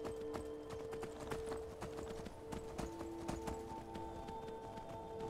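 Horse hooves clip-clopping in the Skyrim video game, a steady run of close, distinct hoofbeats over a humming in-game music drone, with a soft whinny-like tone underneath.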